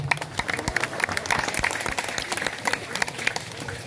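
A crowd at a Balinese wayang Calonarang shadow-puppet performance claps in a loose, uneven burst of moderately distant applause, individual sharp claps standing out.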